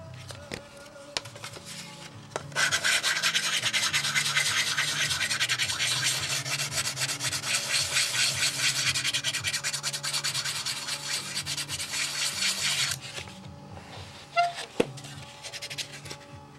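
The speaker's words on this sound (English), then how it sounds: "time for a new piece of sandpaper here." Sandpaper rubbed by hand over wing cowl blocks for a Windy U Master 807 model, a steady, close, rapid back-and-forth scratching that runs for about ten seconds, with a few light taps and handling sounds before and after.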